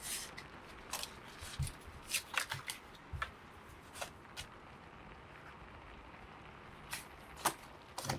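Game cards from a Super Mutant Hammer unboxing being handled, quiet close shuffling, sliding and flicking of cardboard in irregular bursts with pauses between.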